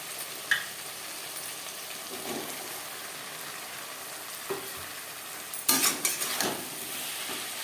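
Bottle gourd stems stirred into fried spices in a pan, with a soft steady sizzle broken by a few sharp scraping clicks of the spoon, the busiest stirring near the end.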